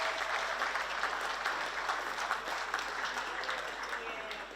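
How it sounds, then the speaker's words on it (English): A room full of people applauds at a football league awards night, the 2024 HFL Senior Medal Count, giving a continuous, even wash of clapping heard at a distance and fairly quiet, holding steady before easing slightly at the end. "I'm happy to give a big round of applause to Sam now for everything she does for the league."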